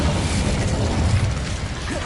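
Incendio fire spell cast in Hogwarts Legacy, a loud, steady roaring blast of flame that holds at full strength for about two seconds with a low rumbling boom underneath and no voices.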